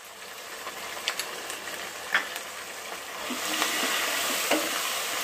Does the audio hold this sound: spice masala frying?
yes